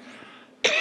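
A single short, close cough from a pastor, sharp and alone after a quiet moment.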